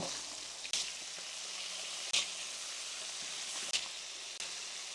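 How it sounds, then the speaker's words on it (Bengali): Surma fish sizzling steadily in hot soybean oil after being turned in the pan, a constant crackling hiss broken by a few sharp spatters and clinks, no voices. "এখন আমরা এটাকে উল্টাই দিব বাকি সাইড ফ্রাই করার জন্য"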